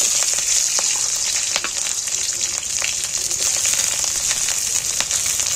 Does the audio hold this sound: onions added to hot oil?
yes